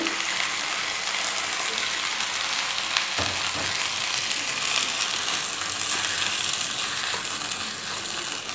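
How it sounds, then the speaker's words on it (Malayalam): Sabudana khichdi sautéing in a pan while being stirred, a steady close sizzle with soft scraping and clinks running throughout, no voices. "ഇത് ഒരു മിനിറ്റ് നേരം നന്നായിട്ട് ഇളക്കി കൊടുത്ത് വഴറ്റിയെടുക്കുക"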